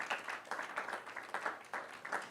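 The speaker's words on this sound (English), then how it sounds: "That applause, I won't take it." Audience applause at a communications mentorship conference book launch, a soft, fairly distant round of clapping that pulses in an uneven rhythm.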